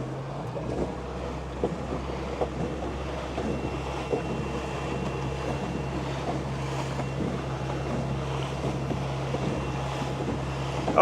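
Small boat running flat out under an electric outboard motor, a steady low hum and wash of water and wind noise throughout, loud and continuous with no talking.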